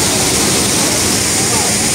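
Strong water pours at Kawasan Falls, a dense, steady, loud roar of falling water that fills the whole clip without pause.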